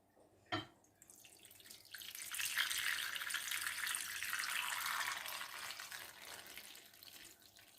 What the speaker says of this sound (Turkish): Yarıya kadar da su koyayım bakayım be.